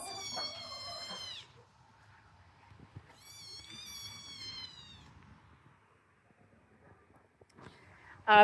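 Several kittens, six of a litter brought along by their mother cat, meow in high, drawn-out cries, two clear bursts with quieter rustling between and another cry starting at the end.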